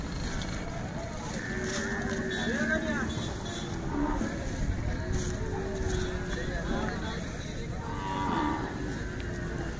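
Cows moo repeatedly at a Khillar and Gir cattle market held for Kartik Shuddha Ekadashi, with several drawn-out calls at moderate distance. People talk through the whole stretch amid general market bustle.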